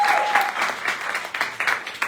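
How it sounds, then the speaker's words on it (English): A short burst of applause from a small group, brisk uneven clapping that stays fairly close and loud throughout. "a round of applause for Mr. Hlakanipho."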